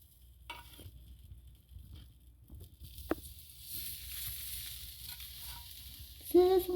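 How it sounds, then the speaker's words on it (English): Melting butter sizzles on hot cornbread fresh from the oven, a faint crackling hiss that swells and grows steadier toward the end, over low kitchen background noise. "Hear that sizzle?"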